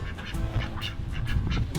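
Hookbill ducks quacking in a repeated burst of calls, fairly close, over a wet, muddy farmyard background with no speech.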